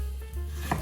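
A knife slices an onion into half moons for a sukiyaki rice bowl, giving a soft cut and a clear board tap over a steady low background hum.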